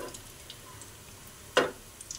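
Noodles frying in a pan, a soft low sizzle throughout with one brief louder scrape or stir partway through, close and quiet with no voices.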